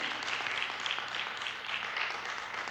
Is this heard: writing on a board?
no